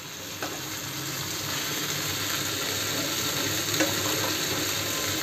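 Rice-flour-coated fish pieces frying in hot oil for a Malvani fish fry, a dense, continuous sizzle with a few faint clicks over it.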